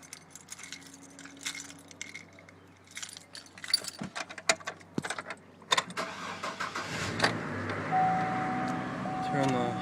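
A set of car keys jangles and clinks in a burst of metallic rattles at close range, with a person talking nearby and a vehicle engine starting up toward the end.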